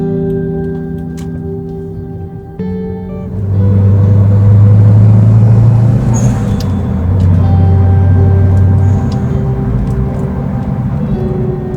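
A car drives along a road in Japan with a steady engine hum and road rumble heard from inside, a low drone that swells a little louder after a few seconds and then holds even.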